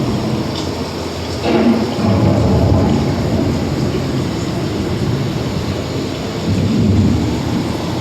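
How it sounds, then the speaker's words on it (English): An approaching thunderstorm rumbles with low rolling thunder over a constant wash of heavy rain, the thunder swelling in two broad waves, with no voices. "The approaching storm may seem violent and destructive to us"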